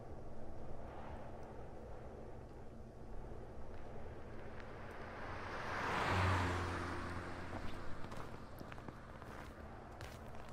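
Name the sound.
car driving past in video game Everlasting Summer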